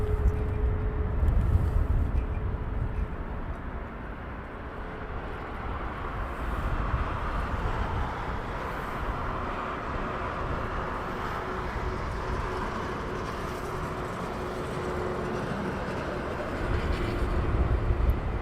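American Airlines airliner taxiing at Heathrow Airport, a steady low engine rumble and roar holding near and fairly loud throughout, with a faint sustained whine above it.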